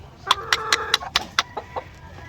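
White leghorn hens in battery cages cluck in a quick series of about eight sharp, close calls, bunched near the start and thinning out toward the end.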